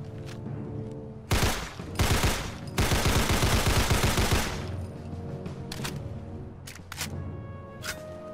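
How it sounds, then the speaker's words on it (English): Sten Mark II submachine gun firing in Fallout 4, sharp full-auto bursts of rapid cracking shots, including one long sustained burst, loud and close, separated by quieter mechanical clicks and handling sounds. "the Sten Mark II Redux, a British SMG famous from World War II"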